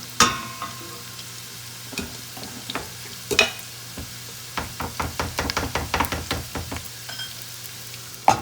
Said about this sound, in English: So this is olive oil and butter and onion.